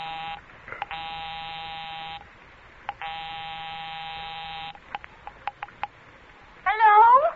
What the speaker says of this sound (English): I'll give 9B a ring first on the house phone.